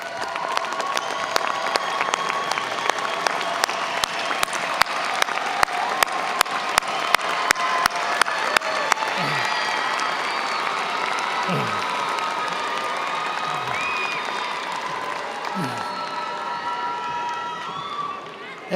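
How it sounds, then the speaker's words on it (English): A large audience at a university commencement claps and cheers in a long, steady wave of applause, with a few sharper claps standing out early on and occasional shouts from the crowd. "join me in applauding all those that helped you to achieve this degree"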